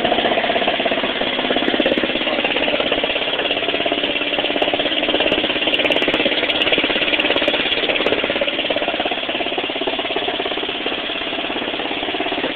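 A modified lawnmower engine with blue and chrome parts, a straight pipe and a side-mounted exhaust can, running steadily and loudly at close range throughout with a dense, buzzing, rapid-fire drone.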